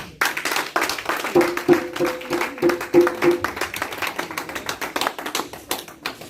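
A church congregation acclaims Jesus with rhythmic hand clapping, a crisp, steady run of claps with a faint sustained tone briefly audible underneath.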